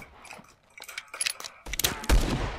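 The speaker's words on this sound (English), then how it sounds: "who is shooting me?" Gunfire in the Roblox game Bandit Simulator, a few sharp shots and a louder burst near the end, close and punchy against faint background noise.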